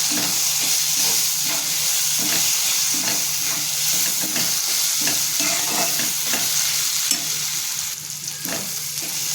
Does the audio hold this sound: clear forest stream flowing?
no